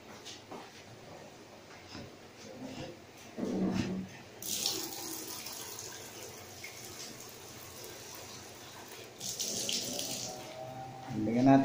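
Tap water runs in two short bursts into a pot of pansit soup, a close splashing gush over quiet kitchen background noise.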